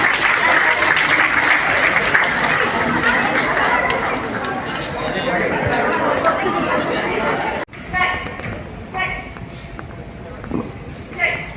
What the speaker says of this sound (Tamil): ஒரு நல்ல கைத்தட்டலோட அவங்கள வெல்கம் பண்ணலாம்.